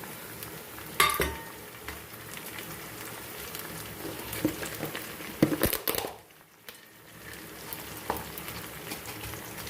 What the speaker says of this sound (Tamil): இப்போ தக்காளியை போட்டுக்கலாம்.